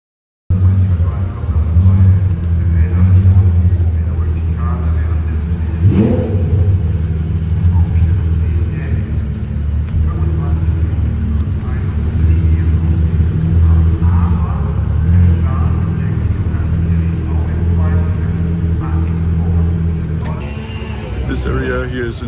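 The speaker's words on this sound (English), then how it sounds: "Nine Pagani Huayra R's just started up." Several Pagani Huayra R supercars idle and rumble together at the Nürburgring, a low steady engine drone with occasional revs, under continuous talking and crowd noise.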